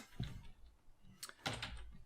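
A few scattered clicks and clacks of keys typed on an old computer keyboard, sparse and uneven, fairly quiet and close with no talking.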